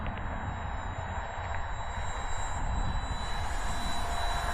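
Electric ducted-fan whine from an E-flite A-10 twin 64mm RC jet at about 70% throttle, flying a loop overhead, steady and moderately loud against a broad rushing noise that swells slightly toward the end.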